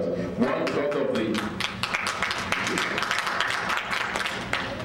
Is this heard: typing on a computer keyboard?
no